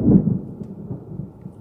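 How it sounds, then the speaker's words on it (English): Thunder rolls low and steady in a storm, a deep rumble for under two seconds with no voices over it. "hear that thunder?"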